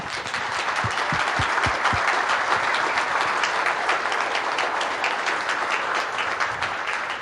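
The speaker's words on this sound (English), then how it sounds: "you deserve a round of applause for that" Assembly plant workers at a car body plant applaud together in sustained, dense crowd clapping, with a few louder individual claps standing out near the start, steady throughout.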